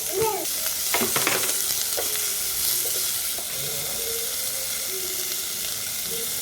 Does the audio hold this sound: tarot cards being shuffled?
no